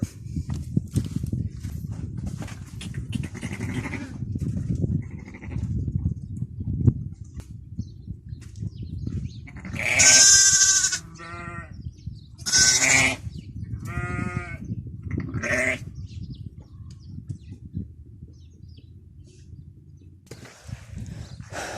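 Goats on a village farm near Madinah, Saudi Arabia, let out about four loud, close bleats in the middle of the stretch while a kid is hand-fed milk, over a steady rustling, shuffling background.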